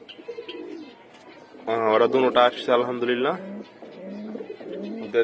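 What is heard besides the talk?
pigeons cooing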